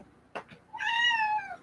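A cat meows once, a drawn-out, rising-then-falling cry lasting nearly a second, preceded by two short scuffing knocks, close by in a room during weaving.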